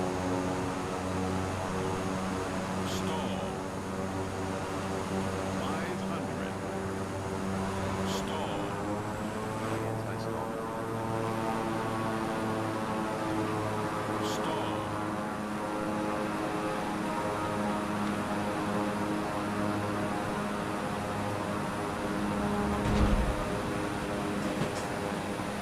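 A propeller airplane engine drones steadily through a landing attempt in a flight simulator game, its harmonic tones shifting in pitch around the middle of the clip, with a brief thump near the end.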